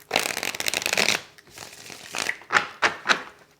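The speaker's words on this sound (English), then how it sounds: "Just want to shuffle for you guys to see" Tarot cards riffle in a dense rattling burst, then several short separate flicks and snaps follow, close and fairly loud, with no talking.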